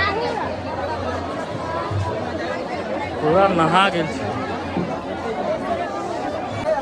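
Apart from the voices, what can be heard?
dense crowd chattering at a temple during a festival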